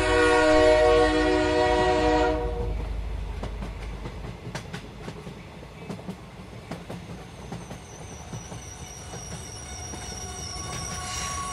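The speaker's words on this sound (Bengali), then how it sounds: "এক্সপ্রেস ট্রেনটা যখন আমাদের বর্ধমানের স্টেশনে নামিয়ে দিল তখন বিকাল।" An express train runs on the rails as a sound effect in a Bengali detective audio drama: a horn blares at first, then wheels rumble and squeal with scattered clicks, steady and fairly close.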